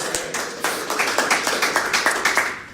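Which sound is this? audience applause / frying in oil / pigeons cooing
audience applause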